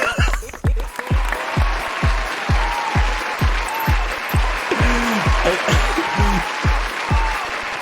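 An audience applauds a track just played at a game streamer chat event, with dense clapping under a steady crowd wash and a voice speaking over it.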